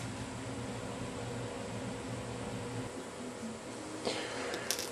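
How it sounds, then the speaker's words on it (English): A small hand dryer drying glue on a paper pattern runs as a steady, even whirring hum, continuous and moderately close, with no talk over it. "I'm going to go ahead and use a little dryer, and I'm going to dry that on there"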